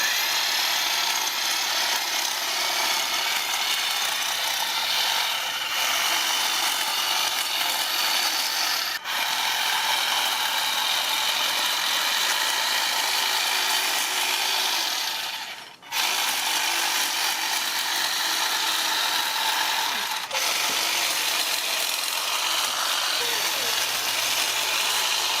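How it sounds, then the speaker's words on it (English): A Ryobi 40V cordless hedge trimmer cuts through an overgrown bush with thin limbs, giving a steady, close, high-pitched motor buzz that runs almost the whole time, dipping briefly a few times as the blade bites or pauses. "So we're going to try the trimmer here right on this bush first."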